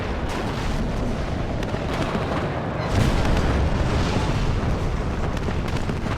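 Tank gunfire and explosions in the WARNO strategy game, with Abrams tanks in battle, make a dense rumbling barrage of booms and blasts, with a heavier burst midway.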